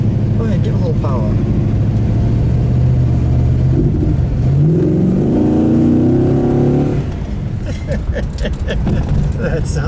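A 1969 Dodge Charger Daytona with a 426 Hemi V8 accelerates on a short neighborhood stretch. The engine note rises steadily under power and then eases off, heard close from inside the car with people talking.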